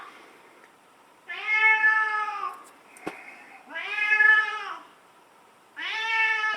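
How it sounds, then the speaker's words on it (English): A pet cat named Ichabod meows three times, loud and close, with long drawn-out calls and quiet pauses between them. "Sorry for the cat in the background."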